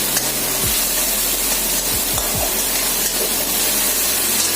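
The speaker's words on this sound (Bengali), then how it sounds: "এটা ভালো করে কষিয়ে নেবো।" Masala of tomato, turmeric and chili powder sautés in a pan with a steady, close sizzling hiss, broken by a few soft scraping stirs of a spatula.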